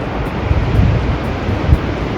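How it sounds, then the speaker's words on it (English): Strong wind off a lake roars steadily into the microphone, a loud broadband rush with low buffeting gusts and no voices. "Listen to that wind, all coming from the lake down there."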